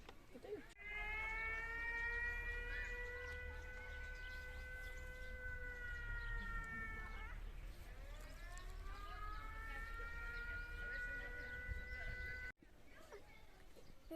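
An air raid siren during wartime in Ukraine wails in long steady harmonic tones, dipping and rising again in a slow cycle, with faint background noise and no talk.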